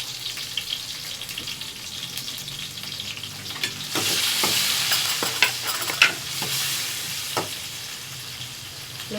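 Onion and tomato sauté in a pan, a loud close sizzle broken by scraping stirs and clinks that swell midway as the mixture is moved around.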